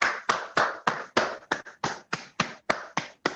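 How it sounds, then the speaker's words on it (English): Students at a school month-end prize event clap for a third-prize winner with about a dozen sharp, evenly spaced claps in a steady unison rhythm, close and clear, with no talking. "Give a huge round of applause to her."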